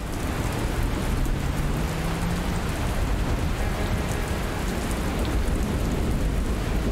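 Steady, dense rain hisses throughout in the video game Dustland Delivery, an even wash of rainfall with no pauses or talk.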